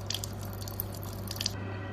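Water drains from an Osmio Zero 3.0 water system into a bowl as a string of small, close drips and trickles over a steady low hum, then stops abruptly.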